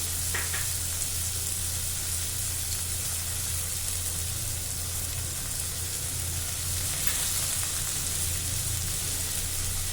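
Green chillies and curry leaves frying in oil on a medium flame for an egg and tomato curry, a steady even sizzle with a low hum underneath and a couple of faint stirring scrapes, no talking.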